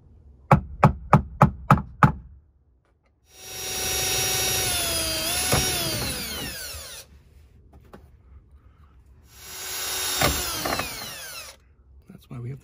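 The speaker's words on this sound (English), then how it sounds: "Now that we got our main hole drilled out" A power drill bores a hole for mounting a Molle panel, in two loud whirring bursts with pitch shifts as the bit bites. Several sharp taps precede them, as if a center punch is being struck, and gaps of quiet fall between.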